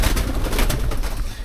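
Pigeons coo inside a brick tunnel in King George VI Park, producing soft, low murmuring calls over a steady, echoing hiss of ambient noise.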